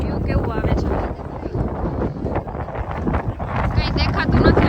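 Cold wind blows across the Girnar hilltop, buffeting the microphone with loud, rumbling gusts, while people talk through it close by.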